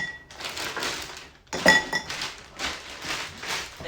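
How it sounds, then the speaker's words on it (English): Ice going into a cocktail glass gives a burst of clinks and knocks around the middle, with lighter rattling before and after. "So we're going to add some ice in here"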